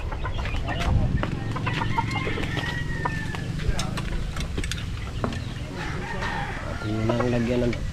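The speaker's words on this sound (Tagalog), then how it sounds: "yung ating isang tandang doon at saka yung isang inahin" A rooster and a laying hen make clucking calls with a brief burst of rapid clucks near the end, amid steady background noise.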